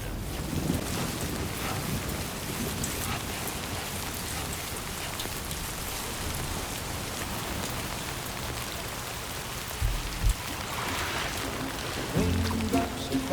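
Heavy rain falls in the video game Death Stranding 2, a dense steady hiss of drops on surfaces throughout, with a few soft thuds near the end.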